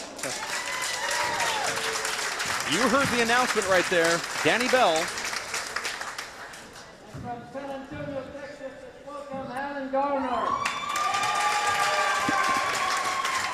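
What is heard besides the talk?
crowd clapping and cheering for handball players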